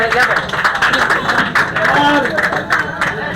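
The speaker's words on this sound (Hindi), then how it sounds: "आ जाओ थोड़ा भाई के लिए तालियां हो जाए यार" An audience at a neighbourhood election gathering near Ekta Hotel in Mangal claps for a resident, loud and close, with bursts of hand claps under ongoing talk and crowd murmur.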